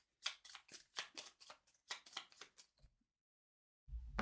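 A deck of playing cards is shuffled by hand during a card game: a quick run of soft, crisp riffling bursts, then silence and a brief low thump at the end.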